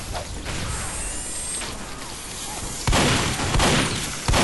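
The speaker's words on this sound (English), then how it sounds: "Sentry going up." Team Fortress 2 engineer sentry gun being built, a busy run of mechanical clanks and whirring over steady game noise, with two sharp louder bursts near the end.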